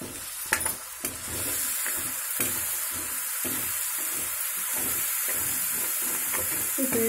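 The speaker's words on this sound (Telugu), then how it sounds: "పేస్ట్ ఇలాగ దగ్గరకు అయ్యే వరకు వేయించుకుందాం." A ginger-garlic spice paste with coriander sizzles and fries steadily in a pan for Bochu fish curry, with a loud, even hiss and repeated stirring scrapes close by.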